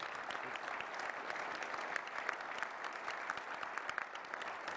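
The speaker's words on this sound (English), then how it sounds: "let's give these guys a round of applause." Applause from the audience at a government and education luncheon, continuous moderately distant clapping from many hands with no break, fairly soft overall.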